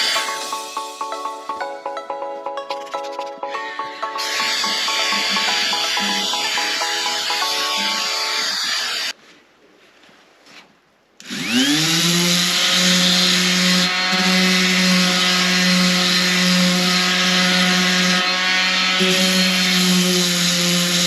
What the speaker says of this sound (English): So now I'm removing all the gel coat and paint right down to the fiberglass again,